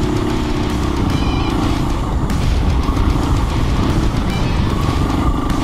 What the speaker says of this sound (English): Getting to ride the KTM, do a little bit of testing on it.